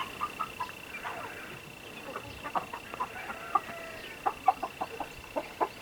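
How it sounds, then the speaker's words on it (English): Broiler chickens out of their cage and roaming near a small hatchery, giving scattered short clucks and peeps at close range over a quiet background with a faint steady hum. "These broilers that you can see running around here, we've obviously taken them out of the cage."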